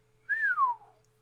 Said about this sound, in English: Rex let out a low whistle